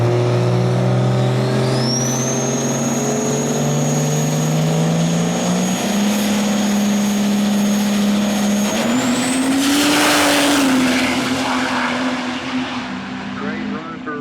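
A diesel truck making an outlaw diesel drag racing pass, its engine roaring loud and close as the pitch climbs through gear shifts, then surging to a peak before fading slightly as it pulls away.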